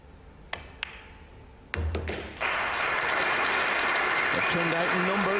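A crowd in Germany applauds at a pool tournament, a few sharp taps and clicks first, then clapping swells into a dense, sustained ovation, with a voice talking over it near the end.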